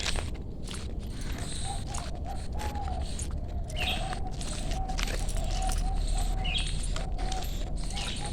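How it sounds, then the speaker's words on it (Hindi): A few faint, brief bird chirps come and go outdoors among lychee trees, over a steady background hiss and some soft rustling and clinking. "चिड़िया पक्षी सब बोल रहे हैं।"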